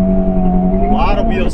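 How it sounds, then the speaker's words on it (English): A 2023 Honda Civic Type-R launches with wheel spin, its engine droning loud and close with a steady harmonic tone that rises sharply near the end, while someone talks over it. "lot of wheel spin."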